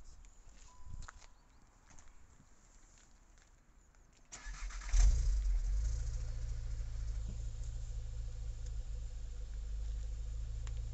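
A stock-exhaust Volkswagen Golf 5 GTI starts after a few quiet seconds with a brief cranking surge, then settles into a steady, close, low idle rumble that holds to the end.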